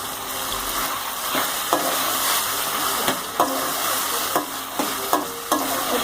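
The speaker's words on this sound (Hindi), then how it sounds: "अच्छी तरह इसकी भुनाई करेंगे।" Chicken liver stir-fries in a pan with coarse green chillies, salt and turmeric: a steady close sizzle broken by regular spatula strokes scraping and tapping about every second.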